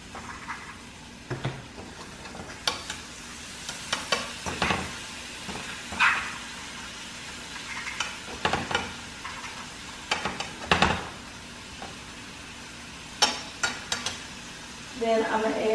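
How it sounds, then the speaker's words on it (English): Butter sizzles in a hot skillet as a sauce begins, a steady low frying hiss under repeated utensil scrapes and clinks against the pan. "I'm going to start off with some butter, just to caramelize the skillet"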